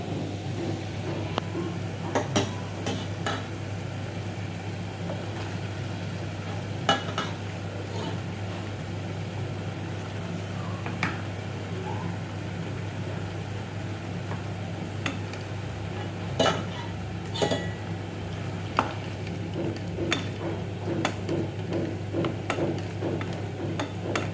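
Black-eyed peas (chawli) being stirred into an onion-tomato masala gravy in a pan: soft scraping and wet stirring clicks over a low steady hum, close and fairly quiet.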